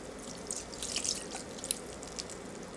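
Homemade rice wine vinegar poured over cooked rice in a large bowl, a faint close splash and patter of liquid with light drips, no talking.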